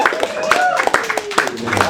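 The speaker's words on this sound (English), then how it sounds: "Let's have a big round of applause for Jonathan Ariano, everybody." Scattered, uneven claps ring out at an open-mic poetry night as a poet is welcomed to the stage, mixed with loud voices and whooping from the small audience.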